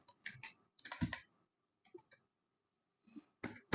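Short bursts of computer keyboard typing while entering a CSS property in a code editor, irregular clusters of quick keystrokes separated by pauses, close and fairly quiet.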